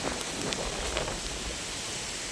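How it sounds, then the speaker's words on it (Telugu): Heavy cyclone rain drums steadily on surfaces nearby, a thick hiss with scattered sharper drops splashing close. "వర్షం చూడండి అమ్మో ఫుల్ వర్షం స్టార్ట్ అయిపోయింది"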